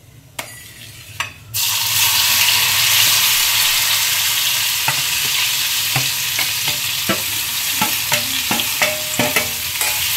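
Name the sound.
raw mango pieces sautéing in hot oil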